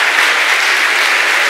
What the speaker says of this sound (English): I think we have one further round of applause.